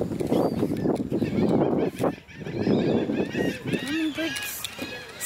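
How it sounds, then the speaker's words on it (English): Seagull cries rise over steady outdoor chatter in Calabash, North Carolina, several gulls calling in short, repeated squawks, getting more frequent toward the end. "They're all seagulls."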